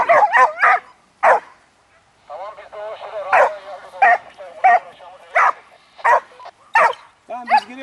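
Several hunting dogs on a wild boar hunt in a Turkish forest bark repeatedly at close range in quick, uneven bursts, with yips and whines mixed in between the barks.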